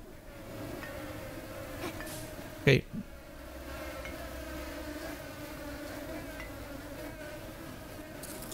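Flies buzz steadily in the video game Supraland, a constant insect drone that fills the whole stretch, with one brief spoken word near the start and a short thump partway through.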